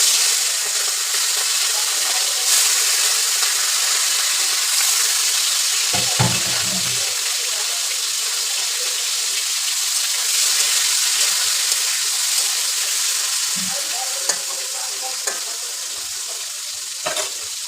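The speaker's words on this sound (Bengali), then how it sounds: "মাছগুলো আমি হালকা করে ভেজে নেব।" Shing fish frying in hot oil in a wok, giving a steady, loud hiss and crackle that runs throughout, with a few clinks of utensils partway through.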